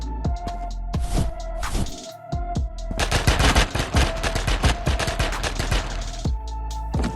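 Animated gunshot sound effects, a loud string of sharp rapid shots that starts in bursts and builds into dense, overlapping automatic fire with a low hum underneath.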